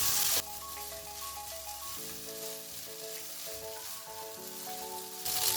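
Vermicelli and vegetables for upma sizzling in a pan as they are stirred, a steady close frying hiss broken by scraping strokes and some tonal background music.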